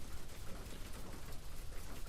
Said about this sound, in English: And just like that,